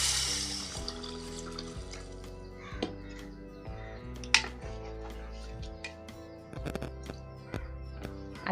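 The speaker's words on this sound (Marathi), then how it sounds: "आता यामध्ये ॲड करते पाणी." Water is added to roasted spices in a cooking pan for a Maharashtrian golma curry, a soft continuous pour close by, with faint crow calls and scattered kitchen clicks in the background.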